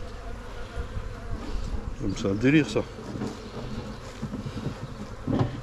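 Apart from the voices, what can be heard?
honeybee flying near beehives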